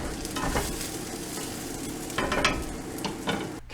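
Onions sizzling in a pan as they cook toward translucent, a steady frying hiss broken by stirring scrapes, heard close up with no talking.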